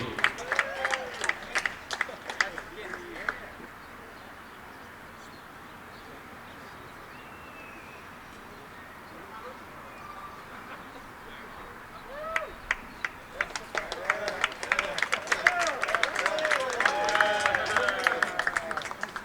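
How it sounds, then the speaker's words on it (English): Outdoor crowd applause at a high school baseball senior ceremony, scattered clapping and cheers early, a quieter lull, then a fuller swell of clapping and shouts from spectators near and far. "A round of applause for Logan Whitney."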